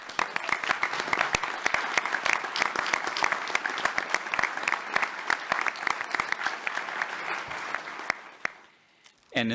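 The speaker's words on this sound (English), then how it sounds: "So a big round of applause for our team here at NAU." Audience at Northern Arizona University applauds its team, sustained clapping from a sizable crowd with sharp individual claps standing out, steady for most of the stretch before tapering off near the end.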